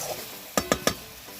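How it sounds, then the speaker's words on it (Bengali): Spice masala sautéed with a little water in a pan for a chicken skin and bottle gourd curry: three quick, close spoon scrapes against the pan over a faint background hiss. "পরিমাণের মতন জল দিয়ে মশলাটাকে ভালোভাবে কষিয়ে নেব।"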